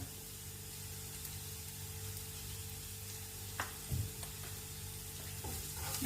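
Onions with salt and turmeric sizzle steadily in a pan while cooking for a curd brinjal curry, giving a soft, continuous frying hiss. A few light scrapes and taps come from a spoon stirring the mixture.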